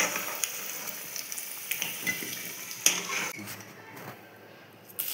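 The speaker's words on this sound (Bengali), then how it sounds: "এই যে মাটনের আলুগুলো ভেজে এই প্রেসারে একবারে তুলে নিচ্ছি।" Potatoes for a homemade mutton biryani are fried in a pan and scooped out, with a constant sizzle of hot oil and intermittent clinks and scrapes of a metal utensil, close by.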